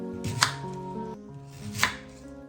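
A knife chops through pumpkin on a cutting board in a home kitchen, two sharp, distinct cuts about a second and a half apart, close and clear with no talking.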